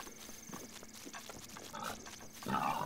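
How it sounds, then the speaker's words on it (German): A pig in the video game The Legend of Zelda: Breath of the Wild grunts a few times over soft in-game ambience, with a brighter rise near the end. "Ach, es ist ein Schwein."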